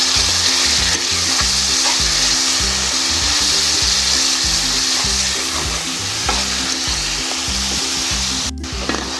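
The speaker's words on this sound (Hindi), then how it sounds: "इसको अच्छे तरीके से मिक्स करके भूनेंगे।" Chili masala thinned with a little water is stirred and fried in a pan, giving a loud, continuous sizzle broken by quick, rhythmic spatula scrapes, with no talking.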